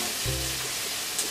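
Split green chillies hit a pan of hot liquid and sizzle briefly, a close hiss with a short low thump near the start, no speech.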